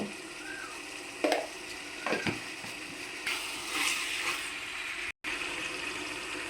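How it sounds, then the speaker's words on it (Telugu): Chicken pieces fry gently in oil with turmeric, a soft steady sizzle punctuated by a few clinks and scrapes of a spoon against the pan. "ఈ చికెన్ బాగా మగ్గనిద్దామండి నూనెలో"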